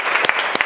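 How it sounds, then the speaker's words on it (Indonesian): Brief applause from a classroom of students during an agribusiness lesson, with a few sharp, close claps standing out over a steady wash of clapping. "Tepuk tangan untuk semua"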